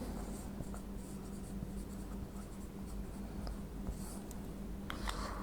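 Pen or chalk writing steadily on a surface during a school geometry lesson on circles and tangents, a continuous soft scratching with faint strokes, heard alone and fairly quiet.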